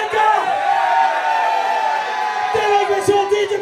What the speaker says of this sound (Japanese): 皆さん、お二人さんをがっちりと大きな声援で頼むで、大阪